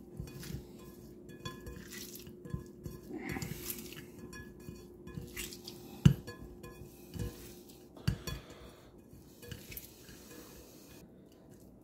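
Fried onions and salt mixed by hand for a dried fish mash, soft squishing and light clinks against a bowl, quiet and close, in uneven bursts with a faint steady hum underneath.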